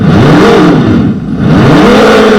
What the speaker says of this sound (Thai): เราจะเร่งตามนะครับผมให้มันได้ยินเสียงเครื่องยนต์